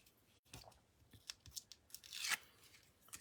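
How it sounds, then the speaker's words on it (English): Backing paper peeled off adhesive foam pads during cardmaking, a close, quiet crackly rasp of tearing and crinkling that swells into a brighter ripping burst near the end, with small handling taps around it. "And peel that off."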